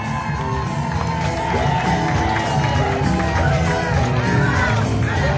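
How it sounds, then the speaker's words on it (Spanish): A crowd cheers, whoops and shouts continuously at a secondary school parade of graduating classes, with a dense, steady roar of voices and some clapping running throughout. "Fuerte el aplauso para recibir a la generación"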